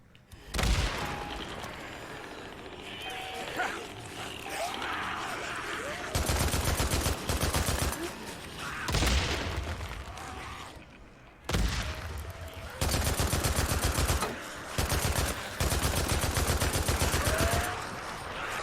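Bursts of automatic gunfire from the Days Gone video game during a surrounded horde challenge, long dense volleys broken by short pauses, loud and close.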